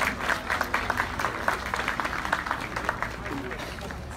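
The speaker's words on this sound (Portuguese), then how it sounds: "uma salva de palmas à fanfarra independente entre amigos." Audience applause for an independent amateur marching band at a live fanfare competition, a dense steady clapping crowd filling the whole stretch, with a voice faintly present underneath.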